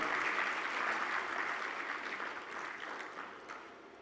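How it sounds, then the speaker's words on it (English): Applause for a keynote speaker at a Connected Africa summit, a broad wash of many hands clapping across the whole stretch that slowly thins and fades toward the end. "Big applause for our keynote speaker."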